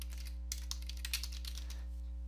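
Keys tapped on a computer keyboard running Windows 10, a short run of quick, light clicks in the middle over a steady electrical hum, close and fairly soft.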